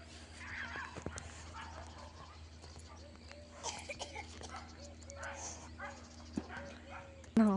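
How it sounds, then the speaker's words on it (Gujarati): Dogs trotting alongside people on an outdoor walk give a few faint, scattered barks and whimpers at a distance, under quiet talk. "ડોગેસ અમારી સાથે જ ચાલે આગળ આગળ"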